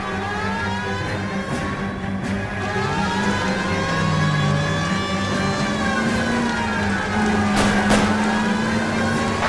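A car engine in the L.A. Noire video game revs and whines steadily through a police pursuit, its pitch swelling and dipping as it accelerates, with brief sharp bursts near the end; no speech.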